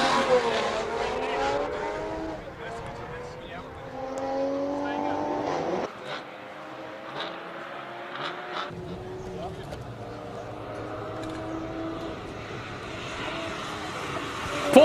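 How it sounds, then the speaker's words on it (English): Toyota Supra race car at a Cape Town hill climb, its engine revving and rising through gears at close range, with a crowd and a commentator talking over it. "Paul Monroe, ladies and gentlemen, with the Supra on the P58."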